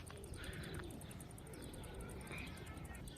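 A pet dove or pigeon returning to its perch gives soft repeated coos, faint and somewhat distant, with a high steady hum and a voice murmuring in the background.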